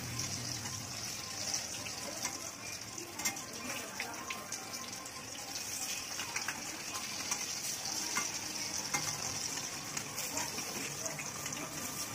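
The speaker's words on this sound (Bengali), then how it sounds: "কড়াইতে সাদা তেল দিয়ে তারপর কিন্তু এই বড়াগুলো ভেজে নিতে হবে।" Masoor dal fritters fry in white oil in a kadai, giving a steady, dense crackling sizzle that holds evenly throughout, with scattered small pops.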